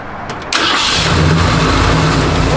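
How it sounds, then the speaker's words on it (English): A 1964 Ford F100 truck engine cranks briefly with the starter and catches, then settles into a loud, steady idle close by. "Go ahead and start it up, Mike."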